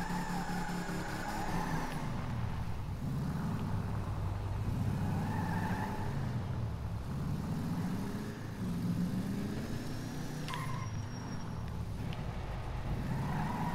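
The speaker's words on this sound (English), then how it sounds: "Listen to that motor." The Voodoo muscle car engine in GTA Online revs up and eases off in repeated swells, a low rumbling motor heard at moderate volume with no speech.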